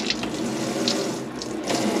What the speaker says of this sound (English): Let's put the pump on.